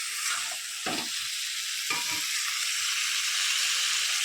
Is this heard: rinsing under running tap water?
no